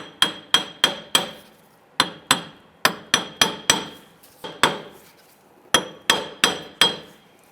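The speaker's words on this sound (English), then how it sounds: "Now we're just going to use our hammer and we're going to go ahead and tap the hub" Sharp metallic hammer taps on the rear wheel hub of a Chrysler 300, struck in quick bursts of two to four blows with brief pauses between, ringing slightly after each hit.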